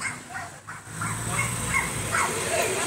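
A dog outside a pizzeria storefront gives a few short barks and whimpering yips, close and fairly loud over a steady background hum.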